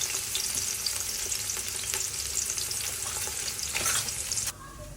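Sliced onions and green chillies frying in hot oil give a dense, steady crackling sizzle at close range, with faint utensil taps, before dropping off abruptly near the end.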